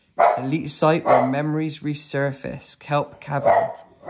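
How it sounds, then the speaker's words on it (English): A dog barks at fireworks, its yaps mixed in beneath steady close-up talk across the whole stretch. "That's my dog having a go at the fireworks."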